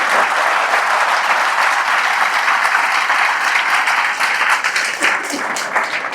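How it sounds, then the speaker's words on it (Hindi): A crowd at a devotional talk about Lord Rama breaks into sustained, loud applause, dense clapping filling the room evenly for several seconds without speech. "तो एक बार जोरदार ताली बजा दीजिए सब लोग।"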